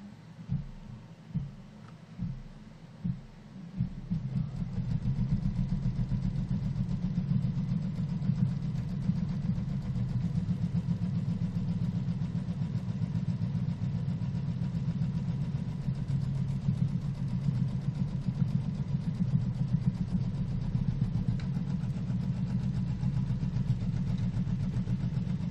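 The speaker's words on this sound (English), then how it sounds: "And let's stitch this outer placement line down." A quilting sewing machine stitches an outer placement line on a quilt block. A few short motor bursts lead into a steady, close, continuous mechanical hum with no talk.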